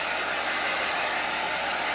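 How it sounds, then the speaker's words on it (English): A blow dryer runs steadily at close range, a continuous loud whoosh of air drying a light layer of paint on a DIY farmhouse-style frame, with no talking. "I'm going to go ahead and hit this with the blow dryer just to make sure it's dry."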